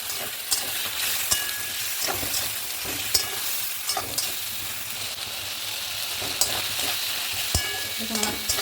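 Spices with cumin and green chilli stir-fried in a pan with a splash of water, giving a steady close sizzle broken by a spatula scraping and knocking at a regular pace, with no voices.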